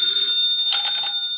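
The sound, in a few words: telephone bell ringing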